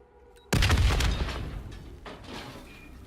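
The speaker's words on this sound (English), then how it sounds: "The explosion blocked our path." A sudden loud boom from an explosion in Black Ops 3 bursts in after a quiet moment, then rumbles and decays with scattered debris-like crackle over the following seconds.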